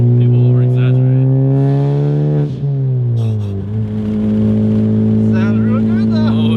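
Honda Civic FK8 Type R with a Tomei Type D catless exhaust revving loudly up close: a strong, steady engine drone rises, dips, then holds high. No speech is heard.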